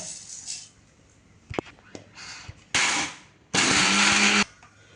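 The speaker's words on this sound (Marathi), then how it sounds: "आता डाळ आणि मुगाची डाळ ते मिक्सरमध्ये बारीक करून घेऊया" A mixer grinder pulses on chana dal and moong dal in two short, loud whirring bursts, the second one longer. Clinks and handling noises from the jar come before them.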